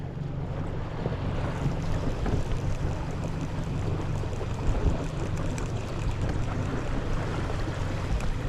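A fishing boat motors across open water with a steady low engine drone, wind buffeting the microphone and water washing along the hull, continuous and fairly loud with no voices.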